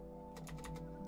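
Fast, light keystrokes on a computer keyboard while entering a server command, a quick run of close clicks over a steady low hum.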